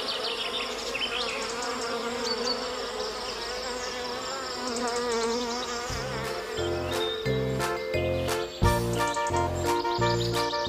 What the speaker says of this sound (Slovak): Ja počujem cvrčky.